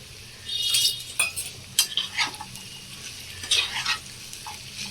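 Papdi beans, eggplant and vegetables being stirred in a pan for Maharashtrian Bhogi chi bhaji, with a series of close scraping clinks of the spoon against the metal pan, sharp and intermittent, with no talk.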